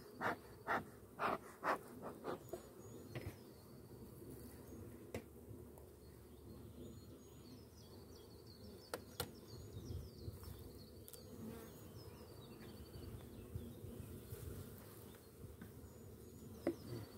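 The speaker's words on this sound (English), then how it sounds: "Bees, especially when there is not much over there for them to be found, like early spring right now, well, they have a tendency to be a bit aggressive." Honeybees buzz around hives in early spring, a steady faint drone with several louder knocks and bumps near the start and scattered clicks throughout.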